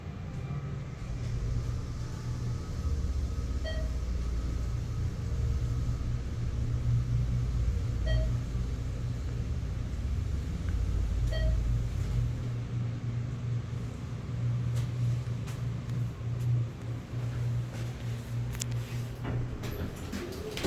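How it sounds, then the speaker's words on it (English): Thyssenkrupp hydraulic elevator at the Four Points by Sheraton West running during a ride, a steady low rumbling hum with faint periodic beeps, continuous and close. "Just taking a ride on the elevators."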